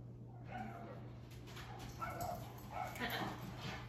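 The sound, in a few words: dogs barking and whimpering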